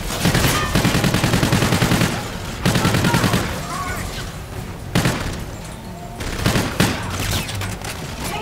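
Rapid bursts of gunfire from a sci-fi shooter video game, Call of Duty: Infinite Warfare, crackle in loud, repeated volleys separated by short pauses, dense and close throughout.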